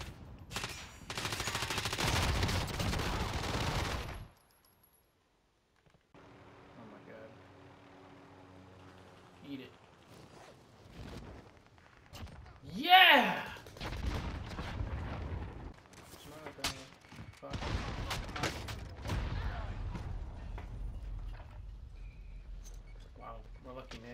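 Gunfire in a multiplayer video game, scattered bursts of shots and sharp impacts heard between quiet gaps while players talk over the action.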